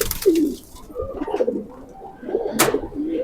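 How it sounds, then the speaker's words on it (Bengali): Pigeons coo close by in soft, throaty, rolling phrases, with a few repeated calls spread across the few seconds and a brief rustle near the end. "আজকে 2টা কবুতর দেখাবো এবং দামটাও বলে দিব।"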